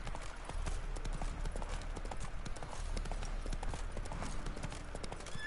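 Horse hooves clip-clop in a steady, continuous rhythm throughout, close and fairly loud, as a horse travels in The Witcher 3: Wild Hunt video game, with faint game ambience behind.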